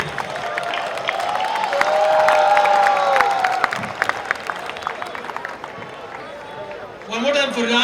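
Crowd of college students at the VJTI Technovanza tech festival applauds and cheers in a large hall, loud dense clapping with shouts that swells then fades, a voice speaking over the end.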